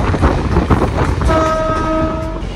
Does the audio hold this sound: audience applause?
no